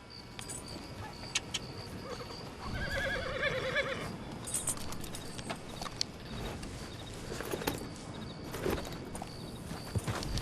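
A horse whinnies and its hooves clop in Red Dead Redemption 2, a loud neigh near the start followed by scattered hoofbeats and outdoor game ambience, with no one speaking.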